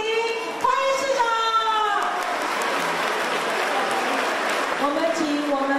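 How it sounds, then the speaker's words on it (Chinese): A crowd at a school's centennial anniversary celebration applauds steadily as the mayor arrives on stage, the clapping running throughout while an announcer speaks over it through a loudspeaker. "我们再用最热烈的掌声来欢迎市长的莅临"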